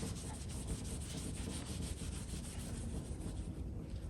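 Steady close rubbing and sanding as a worn metal part from a 75-year-old Van Dorn drill is polished clean of black coating, continuous and even with no pauses, no talk over it.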